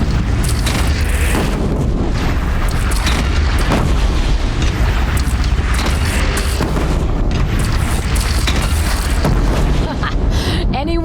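Cannon fire and explosions in the video game Horizon Zero Dawn, a continuous loud barrage of booms and blasts over dense battle noise, with voices faintly mixed in.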